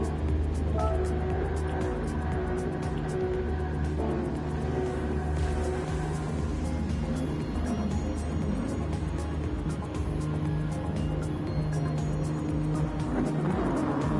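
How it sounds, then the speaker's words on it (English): Race cars in a racing video game at Barcelona approach a rolling start, a steady layered engine roar and rumble that holds at an even loudness throughout with no voices. "Cars line up for a rolling start as we come around turn 14."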